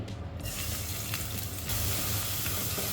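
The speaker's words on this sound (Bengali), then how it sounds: "তেলটা গরম হলে দিয়ে দিচ্ছি পেঁয়াজ কুচি" Chopped onion hits hot oil in a kadai and erupts into a loud, close, steady sizzle with faint crackling, swelling louder toward the end, with nobody talking.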